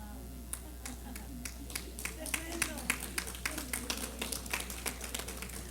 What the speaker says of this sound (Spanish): aplauda más fuerte y con más gozo y más alegría